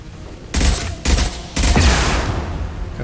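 Three bursts of heavy gunfire erupt in quick succession in Mass Effect 2, each a loud, sharp volley that rings out and trails into a dense, rumbling tail.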